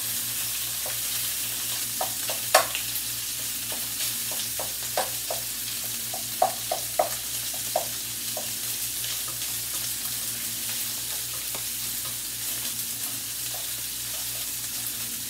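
Sausage frying in a pot for lentil soup, with a steady low sizzle and scattered scraping clicks as it is stirred and broken up; a faint hum runs underneath, and no one speaks.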